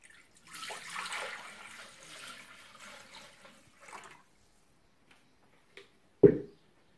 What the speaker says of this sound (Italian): andiamo a mettere un po' d'acqua